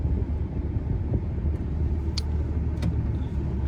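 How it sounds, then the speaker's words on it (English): A stock four-door pickup truck backs out of a driveway, its engine a steady low rumble with faint idle texture throughout, close by and alone with no talk. "We got to back around and get out of the driveway first."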